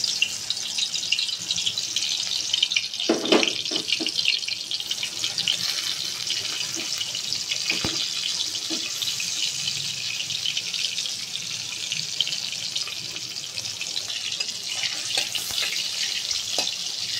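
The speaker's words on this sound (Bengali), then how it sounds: "এখন বেগুনগুলো ভাজা করে নিচ্ছি।" Eggplant frying in oil in a wok produces a steady, bright hiss that runs continuously, with a few faint clinks and scrapes, close by and without talk.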